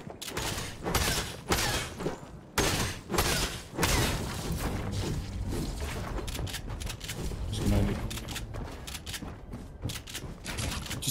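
SMG fire in the video game Fortnite, rapid clusters of sharp cracks and bursts mixed with thuds and crashes, loud and near, interrupted by brief gaps.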